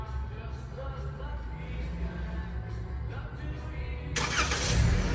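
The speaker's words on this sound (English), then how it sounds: "The car will start automatically." A 2021 Toyota Camry XSE starts by remote: after a quiet, steady idle-like background, the engine cranks and catches about four seconds in, then settles into a fuller, louder running sound.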